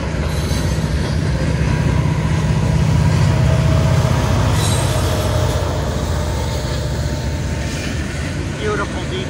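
A long freight train with a DPU locomotive rolls steadily past close by, a loud continuous rumble of wheels and cars with some squealing, while a person talks over it.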